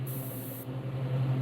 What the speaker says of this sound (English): I'm gonna just spray a little bit of chrome in the white across the bottom